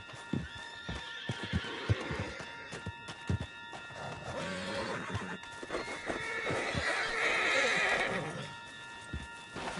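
A horse neighing loudly in Red Dead Redemption 2, with hooves clip-clopping in a quick irregular rhythm and other game sounds around, the whinny building in the second half.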